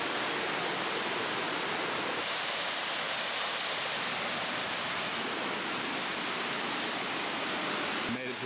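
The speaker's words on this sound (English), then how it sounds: "Made it to the bottom of the waterfall." Steady broadband rush of a waterfall at Tamborine National Park, heard from the bottom of the falls, loud and continuous with no break across the whole stretch.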